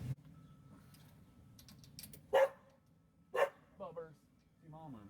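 A dog barks outdoors during a home brake job, with a few sharp barks at a moderate distance separated by pauses, over quiet background clatter.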